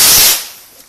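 A Bonfire Night firework in Portsmouth goes off with a single loud, sharp bang up close, then a quick fading rumble and a faint small pop near the end.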